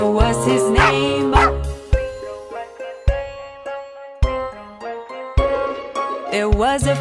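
A cartoon dog in a sung nursery rhyme barks in short sharp yaps, several spaced across the stretch between sustained musical notes and jingling accompaniment.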